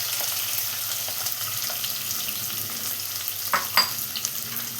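Sliced medium onions fry with garlic in a pan, a steady close sizzle with a couple of brief stirring knocks near the end.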